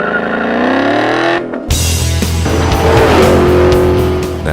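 A 2011 Ford Mustang GT V8 with a Borla aftermarket exhaust, loud and close, holds a steady idle tone, cuts off sharply, then bursts into a hard, roaring rev that sustains and rises.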